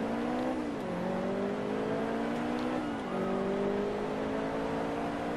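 Race car engines drone and shift through gears in Forza Motorsport 2, a continuous loud whine that dips at each upshift and climbs again, with no voices over it.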